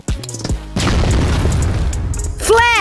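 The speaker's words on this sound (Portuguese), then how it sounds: "Granada!" A grenade blows up in a Portuguese-language multiplayer shooter game: a sudden heavy boom with a rumbling tail lasting nearly two seconds. Someone talks briefly just before the blast, and another voice follows at the end.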